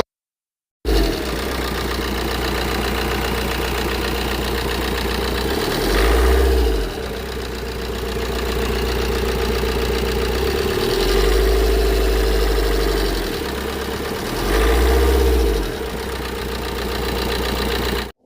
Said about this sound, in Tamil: இன்ஜினோட நாய்ஸ் கேளுங்க